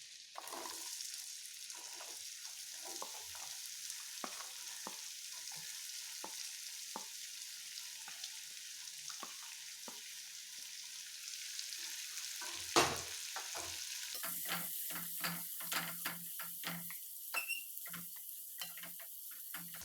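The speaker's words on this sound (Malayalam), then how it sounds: "ബട്ടർ നന്നായി ഉരുകിയതിന് ശേഷം നമുക്ക് അരിഞ്ഞു വെച്ചിരിക്കുന്ന സവാള ഇട്ട് കൊടുക്കാം" Chopped onions sautéing in melted butter for butter chicken, a steady soft sizzle at low level with a utensil stirring and scraping now and then; the frying grows louder and busier toward the end.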